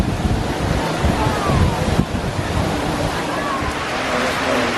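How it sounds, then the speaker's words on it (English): Steady, loud wind rushes and buffets the microphone near the Epcot monorail in Florida, a continuous roar with no breaks. "You can sense the wind's blowing and picking up."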